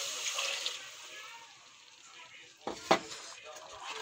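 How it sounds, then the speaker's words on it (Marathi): Water poured into a cooking pan of peas and spinach, a soft rushing pour at first, then a brief clatter of metal, close by and fairly quiet. "पाणी घालून घेऊ"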